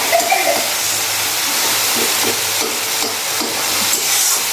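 Loud, steady sizzling of spices frying in a hot pan, a continuous crackling hiss with occasional faint scraping of stirring.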